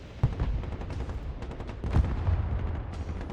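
Gunfire and artillery in the multiplayer video game Broken Arrow, a dense stream of shots and distant thuds rumbling continuously with no talk.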